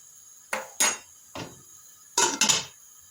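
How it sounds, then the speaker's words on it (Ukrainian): A utensil clinks and scrapes against a pot of pumpkin porridge with milk in five separate sharp knocks, near and fairly loud, with quiet pauses between them. "все це розмішую"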